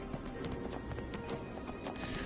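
Pack horse hooves clip-clop in the Neverwinter video game, a quiet, steady run of light taps over soft game ambience with no talk.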